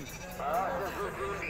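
Sheep bleat at a livestock market, one close wavering cry rising and falling over a second, with someone talking alongside.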